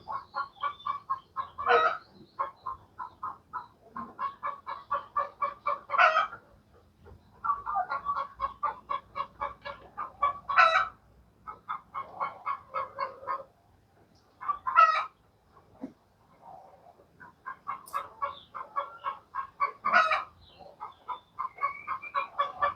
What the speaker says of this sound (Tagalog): Yung manok siguro na bagong itlog. Putak ng putak.